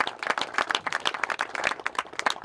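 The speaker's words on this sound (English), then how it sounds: "Let's give these Muleskinners here a round of applause." Audience applause for the mule teams and their muleskinners at a mule plowing event, a dense burst of clapping from many hands, steady and lively throughout.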